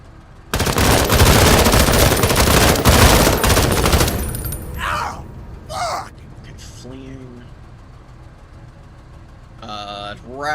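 A gunfire salvo in the video game Menace: a loud, dense burst of rapid shots lasting about four seconds, then scattered quieter effects and brief speech-like sounds.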